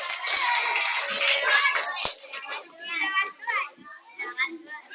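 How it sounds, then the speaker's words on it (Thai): Schoolchildren in a classroom applaud a classmate, with a dense burst of clapping mixed with excited chatter that fades into scattered claps and children's voices. "ปรบมือเพื่อนหน่อยเร็ว"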